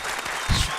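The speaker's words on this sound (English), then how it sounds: "Ladies and gentlemen, keep the applause going." Applause from a studio audience on an interview show, a steady dense patter of clapping through a brief moment with a slight swell near the middle.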